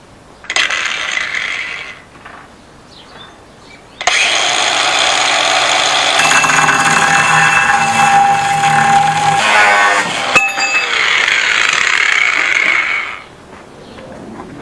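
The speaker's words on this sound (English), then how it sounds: "first mount successfully cut off" A metal motor mount on a Schwinn Stingray OCC Chopper bicycle frame being cut off with a power tool: a loud, steady grinding whine runs about nine seconds, framed by shorter cutting bursts before and after.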